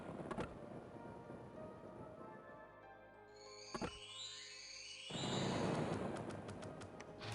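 Thunder from a lightning spell striking during a forest battle in the strategy game Conquest of Elysium 5, with sharp cracks followed by a swelling rumble and rain-like hiss, moderately loud and without talk.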